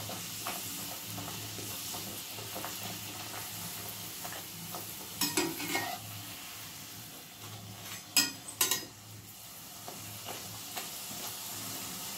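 Kachori frying in oil until reddish, with a quiet continuous bubbling sizzle and a few sharper clattering bursts midway and near the end.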